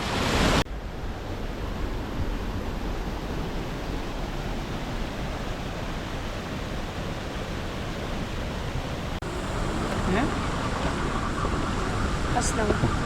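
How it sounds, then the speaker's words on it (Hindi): An artificial waterfall made by diverting river water in Pakistan's Siran Valley pours with a constant broadband rush, close and steady, after a brief louder start. "सामने एक मसनूई आबशार भी देख सकते हैं जो वादी सिरन के पानी को मोड़कर बनाई गई है।"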